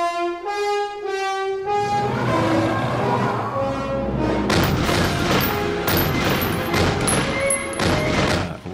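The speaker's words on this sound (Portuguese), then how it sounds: "O cara tá levando um monte de tiro e ele cai" Heavy gunfire from a scene in The Office, dense rapid volleys of shots and booms crashing in over music and continuing loud to the end.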